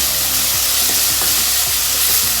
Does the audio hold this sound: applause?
no